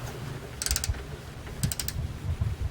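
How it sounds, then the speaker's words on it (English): Wrench ratcheting on a bolt of a Suzuki SV650S motorcycle with the seat removed, two short bursts of quick metallic clicks, close and moderately loud over a low background hum. "So with the seat off, I was able to get some more clearance and crack that bolt."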